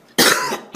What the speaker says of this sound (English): Don't cough into my open wound.